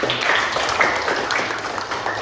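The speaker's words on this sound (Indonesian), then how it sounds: "berikan tepuk tangan bagi" Students in a classroom during a practice teaching lesson give a short burst of clapping, a dense patter of hands at moderate volume with faint voices mixed in.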